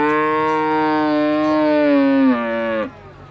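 Cattle at a game reserve give one long, loud, close moo that holds steady, bends lower near the end and then breaks off sharply.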